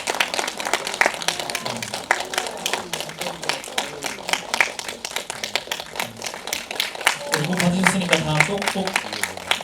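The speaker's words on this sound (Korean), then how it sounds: "박수 한번." Audience applause at a film screening Q&A event, a continuous patter of many hands clapping throughout with some voices and crowd murmur mixed in, growing a little louder toward the end.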